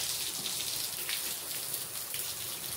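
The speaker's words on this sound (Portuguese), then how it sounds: "banho de chuva gostoso" Rain shower patters softly and steadily over a blue-and-yellow macaw, a faint continuous hiss of drops with no voices.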